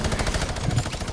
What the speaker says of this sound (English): I just love that minigun.